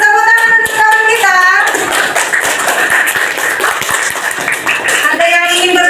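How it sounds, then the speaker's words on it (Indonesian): A classroom of students claps together in a burst of rapid, overlapping hand claps, with a teacher's voice and children's voices speaking over the start and end. "tepuk tangan untuk kawan kita"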